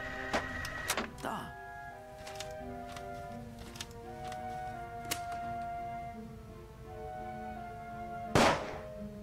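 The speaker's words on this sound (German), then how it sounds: "Auf dem Tonband ist ein Schuss zu hören." A gunshot played back from a tape recording in the video game The Raven, a sharp loud crack near the end following a few smaller clicks, set over quiet sustained background music.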